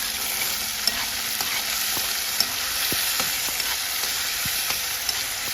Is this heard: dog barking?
no